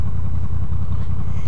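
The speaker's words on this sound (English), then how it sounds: "And that is the sound of a stock exhaust on a Honda VFR800 2008." Stock exhaust of a 2008 Honda VFR800 motorcycle burbling at idle, a steady low, throbbing pulse that stays close and loud throughout, with no voices.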